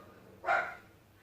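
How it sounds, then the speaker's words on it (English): A dog gives a single short bark at a distance, faint against a quiet room background. "shout out to the dog barking and my mom yelling"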